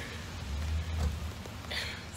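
Steady rain falling, a dense continuous patter with low rumbling underneath and a brief brighter splash near the end, moderately loud with no voices.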